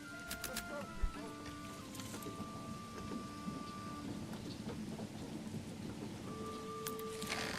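Steady rain falls in the medieval strategy video game Manor Lords, an even hiss with scattered drops and a low rumble of thunder, accompanied by soft interface tones.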